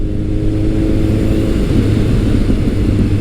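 A motorcycle fitted with an ART exhaust rumbles steadily with a deep, throaty exhaust note, revving slightly and holding loud and close throughout.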